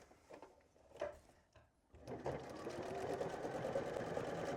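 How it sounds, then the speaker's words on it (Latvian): A Bernette b38 sewing machine stitches decorative patterns, starting with a few handling knocks before settling into a fast, steady mechanical whirring and rattling at close range. "Vispār dekoratīvos dūrienus uz lielu ātrumu labāk nešūt"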